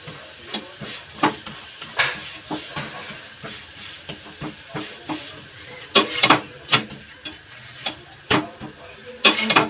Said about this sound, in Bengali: আর একটু আমি চেপে চেপে ভেজে নেব